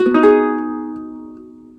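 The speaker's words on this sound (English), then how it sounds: "your ukulele should now sound like this" A ukulele tuned down to a lower pitch, one chord strummed once, ringing out warm and full and slowly fading away.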